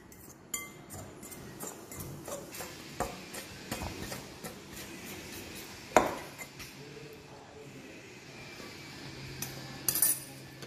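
A fork scrapes and clinks against a bowl while mixing soft chapati-style dough, quiet irregular stirring taps and scratches with a few sharper clinks spread across the stretch.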